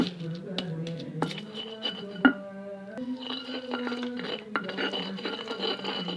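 Mustard greens ground in a stone mortar and pestle for sambal terasi with candlenut, using a mortar left uncleaned from the previous batch; steady scraping and grinding with occasional clinks of stone on stone, close and continuous.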